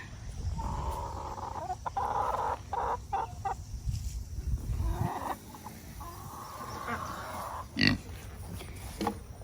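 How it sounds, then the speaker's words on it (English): Chickens on a farm cluck and murmur close by in a busy, overlapping chorus, with low rustling and scratching underneath and a sharper squawk near the end. "Alright, so now we have the chickens."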